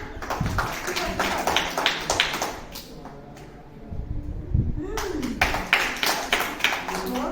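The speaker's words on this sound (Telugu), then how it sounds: "ఓకే, క్లాప్స్ ఇవ్వండి." Primary-school children play a word fish hunt game in class, clapping in dense, quick bursts that pause briefly and then resume, with a voice speaking in between.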